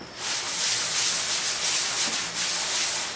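Parchment sanded by hand with a sheet of sandpaper, a close, steady rasping rub with slight rhythmic swells across the strokes, no speech.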